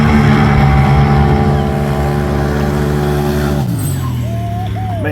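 Several turbocharged Can-Am side-by-sides race at a county fair, their engines a loud, steady, layered drone that drops in pitch near the end while a whistling, rising turbo tone cuts above it.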